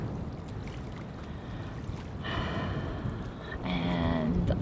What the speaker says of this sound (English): sound you hear is just the ocean.